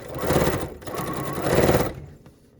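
A dual feed sewing machine quilts straight lines through a fabric quilt top, humming loud and close in a rapid, continuous whir for about two seconds before trailing off.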